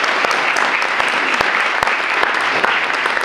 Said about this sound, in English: So y'all clap it up on that, that's good.